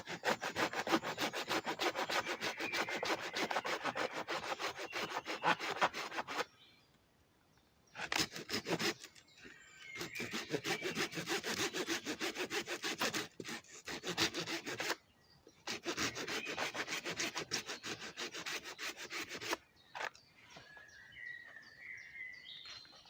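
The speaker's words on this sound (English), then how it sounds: "I'm going to put in a stop cut here, stop cut about there, and then I'm just basically going to chisel all this off." A hand saw cuts a stop cut in wet wood outdoors, steady rapid rasping strokes in several long bursts separated by short pauses, with faint birdsong in the background near the end.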